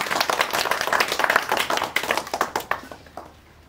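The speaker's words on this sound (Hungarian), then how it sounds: "Attila, egy tapsot." Applause from wedding guests, a dense burst of many hands clapping that thins out toward the end, close and lively with no talk over it.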